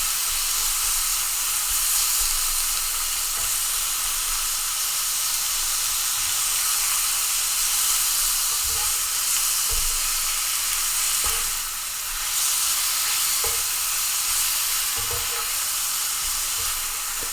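Steak meat for Philly cheesesteak sizzles steadily in a hot pan, a constant crackling hiss with occasional soft knocks of stirring, no talking.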